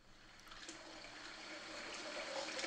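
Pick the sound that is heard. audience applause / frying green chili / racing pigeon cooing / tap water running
tap water running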